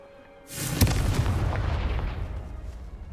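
A Confringo explosive spell goes off in Hogwarts Legacy: a sudden booming blast after a quiet start, then a long rumbling roar that slowly fades.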